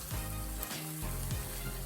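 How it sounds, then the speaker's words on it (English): Lamb frying with onions and peppers in a pan, loud steady sizzle with scraping bursts as the mix is stirred, no voices. "So we're going to give that a good stir."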